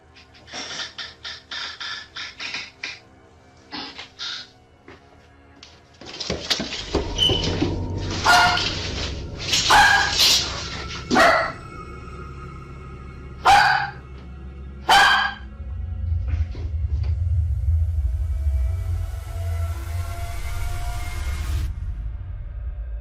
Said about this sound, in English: Her dog sensed something was wrong and started barking loudly